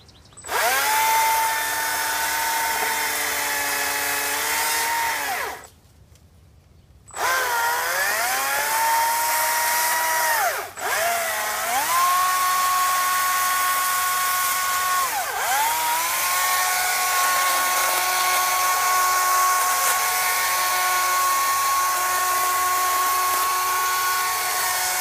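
A battery-powered chainsaw whines at a high, steady pitch, briefly cutting out and revving back up several times, close by with no talking.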